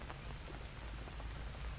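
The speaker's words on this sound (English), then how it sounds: "Oh, for is it rainy season again? Yeah, it's starting to rain." Steady rain falls in the jungle survival game Green Hell, a dense even hiss of drops on surfaces with no break and no talk.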